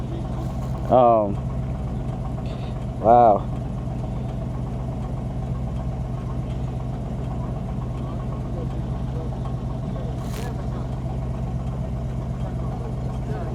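A 1970 Plymouth Cuda 340 with a 4-speed manual makes a steady, low engine drone while idling or rolling slowly, continuous and close, with brief voices calling out twice over it.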